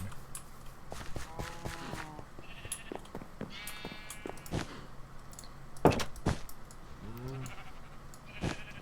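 Minecraft sheep bleat in short wavering calls, several scattered through the scene at moderate distance, mixed with soft footsteps and light ambient game sounds.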